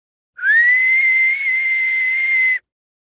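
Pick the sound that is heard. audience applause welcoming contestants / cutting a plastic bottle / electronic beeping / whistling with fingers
whistling with fingers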